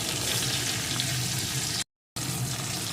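Potato pieces frying with salt in a pan for a Bengali fish curry with bori, brinjal and tomato, a steady close sizzle with faint stirring, briefly cut to silence midway.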